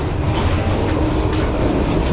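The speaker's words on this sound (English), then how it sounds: "The train is wobbling all over the place." Steady low rumble and rattle of a Vietnamese passenger train rolling along the tracks to Hue, heard from inside a coach, continuous and fairly loud throughout, with no voices.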